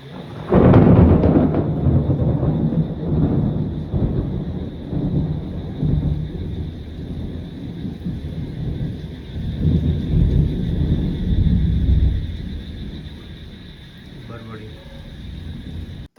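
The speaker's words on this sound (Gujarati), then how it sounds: "એ કાટકો વળ્યો" Loud thunder rumbles and rolls during a monsoon rainstorm, a heavy crack near the start followed by long sustained rumbling with rain and wind noise underneath.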